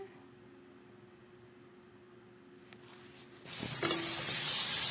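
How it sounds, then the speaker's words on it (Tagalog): Chopped onion dropped into melted margarine in a pan, a quiet hum giving way to a sudden bright sizzle that keeps going loudly, with no talk over it. "tutunawin lang po natin ang margarine at ilagay na po natin itong ating sibuyas."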